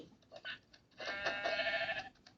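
Minecraft sheep bleat in a few short calls, then one longer, louder wavering bleat dominates the middle of the clip, with faint game sounds around it.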